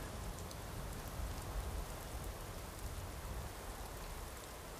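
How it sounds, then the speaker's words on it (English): Steady rain hisses in the Skyrim VR game world, a dense, even, moderately quiet downpour that continues unbroken without voices. "Look, it's a really shit day, isn't it? Raining."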